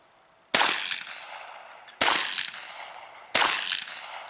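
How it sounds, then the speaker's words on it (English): Three sharp, loud shots from a Ruger PC carbine rifle ring out about one and a half seconds apart, each ending in a short decaying echo outdoors. "we're going to try it out, see how it feels to shoot"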